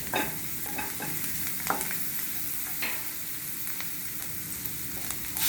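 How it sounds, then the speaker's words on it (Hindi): A pan of onions fries close up for butter masala toast, sizzling steadily while a spoon stirs through it in scattered soft scrapes. "थोड़ा हल्का गुलाबी होने तक इसको भूनेंगे।"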